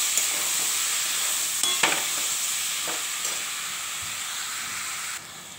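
Mango jelly mixture with turmeric and salt is stirred in a hot pan, giving a steady close hiss and sizzle with a few soft scraping clicks, no voices.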